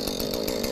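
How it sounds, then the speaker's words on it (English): Chainsaw cutting into a pumpkin at a pumpkin carving contest, a steady loud buzzing drone held throughout with a slight pulsing rhythm, close and alone without talk. "I heard they have chainsaws."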